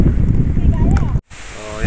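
Strong wind buffets the microphone on an island, producing a loud, low rumbling roar. The gusts drop out for a brief moment and then resume, and a voice speaks over the noise.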